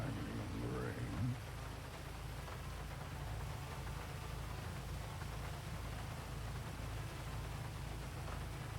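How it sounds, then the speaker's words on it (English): Steady rain falls in an even, broadband hiss throughout, with a brief voice near the start and no other distinct sounds above the wash. "perfect timing on the rain"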